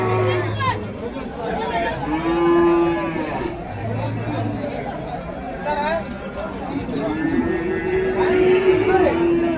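Native cows moo several times, long low calls rising and falling, amid a busy crowd babble of voices at the Uthangarai cattle market.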